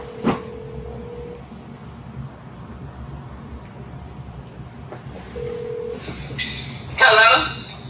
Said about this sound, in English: I don't know if she'll answer my phone call, but we will try.